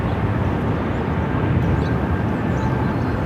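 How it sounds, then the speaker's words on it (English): A Southwest airliner roars down runway 25 right at Phoenix Sky Harbor on takeoff, a loud, steady broadband jet rumble and rush that holds constant throughout, with no voices. "Southwest 579, runway 25 right, clear for takeoff."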